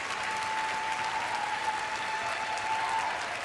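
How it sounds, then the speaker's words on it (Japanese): Dense, steady cheering and applause fill a figure skating exhibition arena, loud and continuous throughout, with a faint sustained tone running beneath the roar. "大歓声を浴びています。"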